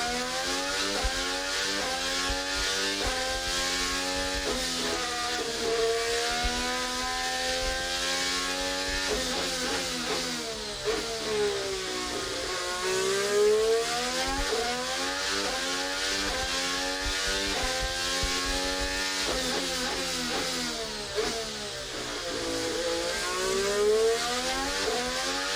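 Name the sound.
Formula One hybrid engine revving up close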